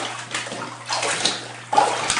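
Water sloshing in a basin as a quilt is hand washed, three rolling surges of splashing and swishing, close and moderately loud with a low steady hum beneath.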